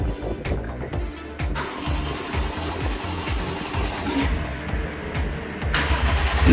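2001 Lexus IS300 with a swapped 1JZ-GTE engine cranking repeatedly without catching, a rhythmic whirring starter churn with uneven pulses, close and fairly loud.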